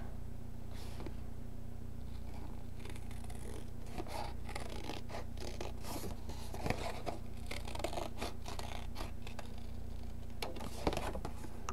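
Scissors cut paper for a handmade file folder, a steady run of close scraping snips and crinkly paper rustles over a constant low background hum.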